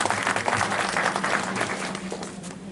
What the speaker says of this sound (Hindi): एक बार लायंस क्लब के सभी साथियों के लिए जोरदार तालियां बजाएं